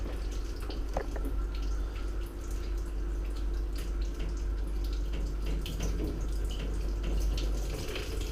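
Water pours and trickles out of a Worcester boiler during a diverter valve repair, a steady close liquid splashing and dripping over a constant low hum.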